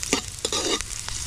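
Sliced onions dropped into a hot pan for cooking pares, a brief close sizzle with stirring scrapes.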